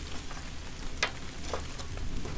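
Coffee chili rubbed beef short ribs on a barbecue grill sizzle steadily as they are flipped, a soft continuous crackle with a couple of brief sharper pops, fairly quiet.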